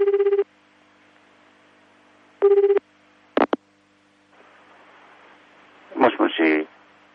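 A telephone call is dialed during a late-night radio broadcast: two short bursts of keypad tones separated by a pause, then a double click, a faint hiss of the line, and muffled voices coming through at the end.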